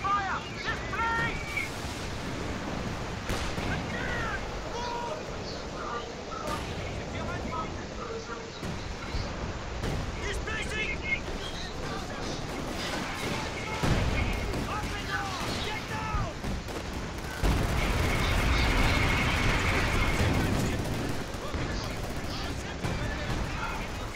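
Artillery barrage in World of Tanks Blitz, with repeated booming blasts and rumbling impacts scattered through the stretch, mixed with game sounds and talking voices over the top.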